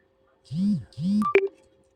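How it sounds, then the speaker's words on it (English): A mobile phone plays a short WhatsApp notification: two soft rising tones, then a quick bright electronic chime, close and clear over faint background hum. "Okay, already WhatsApp notification"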